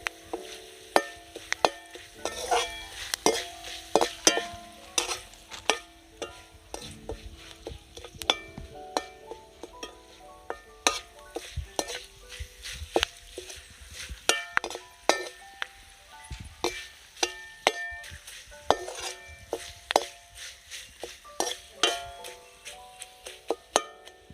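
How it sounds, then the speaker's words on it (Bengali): Curry leaves fry with salt in a pan, crackling close by. Rapid metallic clinks and scrapes from a stirring utensil come in irregular bursts over the sizzle. "চিড়ে ভাজায় একটু কারি পাতা দিলে কিন্তু খুব দারুণ লাগে, মুখরোচক হয়।"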